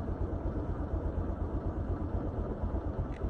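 A Honda Click 125 scooter fitted with a new ECU idles at low RPM, a close, even low rumble with a steady pulsing throb and no talk over it.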